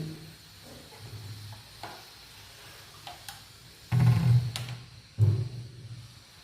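Soft sizzling of onion on a hot oiled griddle with scraping stir sounds and a couple of louder thumps, close and fairly quiet.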